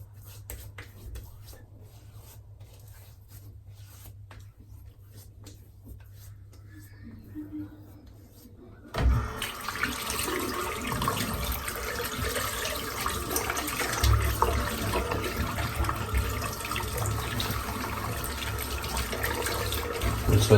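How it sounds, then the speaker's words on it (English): Tap water runs loudly and steadily while a shaving brush is rinsed at a sink, starting abruptly partway through after a quieter stretch with faint talk. "Rinse out the brush."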